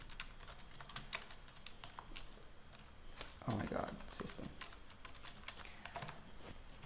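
Rapid keystrokes on a new computer keyboard, steady clicking throughout at close range, with a person talking over the typing partway through.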